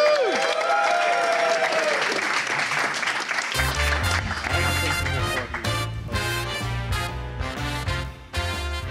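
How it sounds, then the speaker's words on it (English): Audience applause at a comedy roast of the Sidemen, loud and sustained. Around the midpoint a pounding music track cuts in beneath the clapping and carries on to the end. "Let's give them a round of applause."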